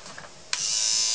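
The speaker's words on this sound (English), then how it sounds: "It's Oral-B, and it actually has a vibrating head." An Oral-B electric toothbrush with a vibrating head switches on after a brief quiet moment and then hums in a steady, loud, close buzz.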